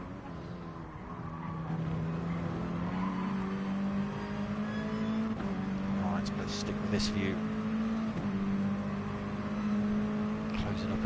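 Mini Cooper Cup race cars lapping at Autopolis International Road Course, a steady droning engine note rising slowly in pitch with sustained loud throttle, a commentator talking over it throughout.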